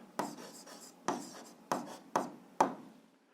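Handwritten marks made with a pen on paper while filling in answers to an algebra exercise: five short scratchy strokes spaced about half a second apart, close and fairly quiet, with no voices.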